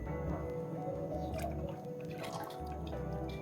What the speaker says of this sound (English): I'm going to pour it inside.